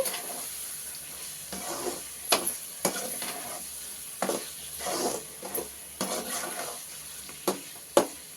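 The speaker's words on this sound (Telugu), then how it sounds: "ఈ ఉప్పు చేప వేసేస్తున్నానండి ఇది వేసిన తర్వాత ఇలా కలుపుకొని" A spatula scrapes and stirs salted fish through a sizzling pan in repeated bursts, with a soft frying hiss between strokes, close and fairly quiet.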